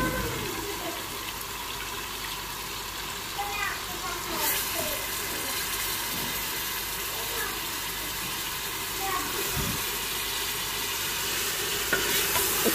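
Spinach, peas and fenugreek pods frying in spices with steady soft sizzling and scraping stirs, a few sharper clatters of the spoon against the pan, continuous and close.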